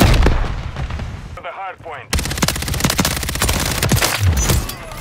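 Rapid SMG bursts rattle loudly in a first-person shooter game, dense strings of shots with a brief gap where a voice speaks, then continuous fire resumes close and harsh.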